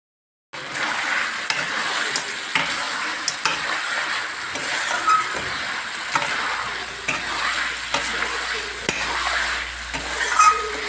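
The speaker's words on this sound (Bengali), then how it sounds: "ওইদিকে আমি পেঁয়াজ ভাজছি" Onions frying in a pan in a home kitchen while chicken is prepared nearby, giving a steady sizzle with intermittent stirring scrapes and utensil clicks throughout, no talk.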